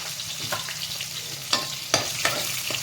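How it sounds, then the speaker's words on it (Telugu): Onion flowers sizzle as they go into hot oil for a tempering, a steady low frying hiss broken by a few sharp clinks and scrapes of a stirring spoon against the pan. "ఉల్లికాయల తాలూకా పువ్వులు అవి కూడా వేసేసుకుందాం చక్కగా పోపులో వేగితే మంచిగా బాగుంటుందండి"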